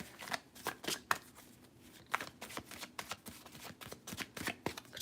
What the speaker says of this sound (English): Something telling me to keep shuffling, so I'm going to keep shuffling